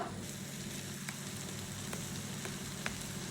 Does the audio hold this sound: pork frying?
yes